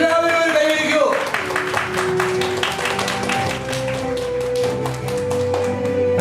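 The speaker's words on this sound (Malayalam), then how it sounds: "എല്ലാവരും ഒരു കൈയടിക്കൂ." An audience at a gathering bursts into applause, a dense spread of claps that swells and holds for several seconds while a sustained musical tone and a voice carry on underneath.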